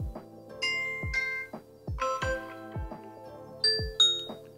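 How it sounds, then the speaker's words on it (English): A Blink video doorbell plays a multi-note ding-dong chime melody, clear bell-like tones ringing one after another, close and distinct. "You can also select the doorbell sound"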